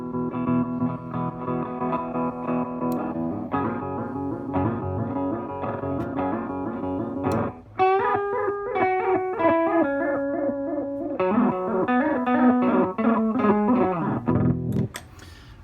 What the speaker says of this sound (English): Judder is the original effect, or normal, and stutter sounds to me like they're sort of sped up and chopped a little bit